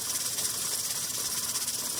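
Pressure canner processing black-eyed peas, its weighted rocker jiggling on the vent as steam escapes in a steady, loud, continuous hiss with fine rattling texture, close by and without talk.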